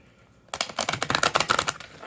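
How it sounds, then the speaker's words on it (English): A Housewives Tarot card deck is shuffled up close, a sudden burst of rapid crisp riffling clicks and flutters after a brief quiet start, with no speech. "It still needs some shuffling, some air in there."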